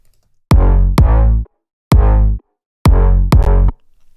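Five punchy synth bass notes at shifting pitches, each short and thick, grouped with brief silent gaps between them.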